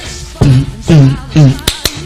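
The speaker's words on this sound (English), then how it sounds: "this clapping, you know, bump, bump, that we did in the corridor, and it came out on the record really loud" Hand claps recorded in a corridor for a Slade record: a handful of sharp, loud claps in an uneven rhythm, mixed with voiced vocal sounds between them.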